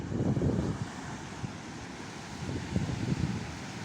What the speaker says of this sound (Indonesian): Ini pantai dengan pasir yang putih panjang sekali.